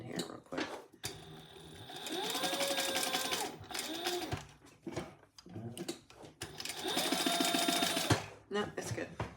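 A home sewing machine stitches in two bursts of rapid, rhythmic mechanical whirring and clatter, separated by brief pauses and quieter handling sounds. No voices can be heard.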